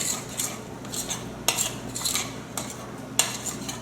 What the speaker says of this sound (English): so mix it together very well so that the masala mixes pretty well with the yogurt.